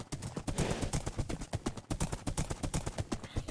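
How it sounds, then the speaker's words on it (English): Horses running in the video game Minecraft Bedrock Edition: rapid rhythmic hoof clip-clops in a steady galloping beat, close and fairly loud, with no talking. "Our horses are running away together."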